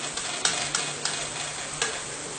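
Rounds of dough frying in hot oil give a steady, close sizzle, broken by a few soft clicks and bumps as they are turned over in the pan.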